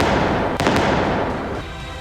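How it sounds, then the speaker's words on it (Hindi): Gunshots ring out as bike riders fire on a car in a street in Batala, Punjab, caught on CCTV: a couple of sharp cracks in quick succession over a dense, noisy street background. "बदमाशों ने बेखौफ अंदाज में एक कार पर ताबड़तोड़ गोलियां बरसाई"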